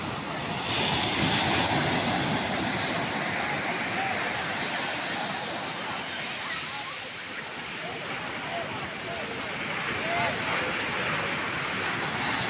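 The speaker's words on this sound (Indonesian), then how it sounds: "Ombaknya juga lagi mendukung nih guys untuk bermain surfing" Ocean surf at Selong Belanak beach, a steady loud wash of breaking waves with wind noise on the microphone.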